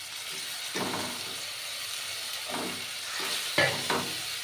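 Dry coriander, cumin and Kashmiri chilli sizzle and fry in a pan with tomato, a steady soft hiss broken by a few scraping stirs, close and with no talk.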